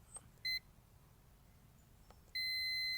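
An ohmmeter set to continuity while setting up sensors on a Toyota 3VZ-E engine gives a short electronic beep, then a longer steady tone that continues to the end, over a quiet background.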